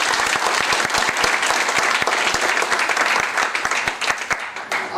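A large audience at a distributor workshop claps in a sustained, dense burst of applause, many hands overlapping evenly before thinning slightly toward the end.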